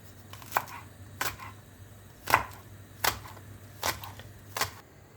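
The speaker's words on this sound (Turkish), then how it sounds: "şimdi ince ince doğramaya başlıyoruz" Six crisp knife strokes chopping green onions on a cutting board, spaced about a second apart, with a low steady hum underneath.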